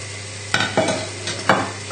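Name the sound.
onions thrown into a pan, sizzling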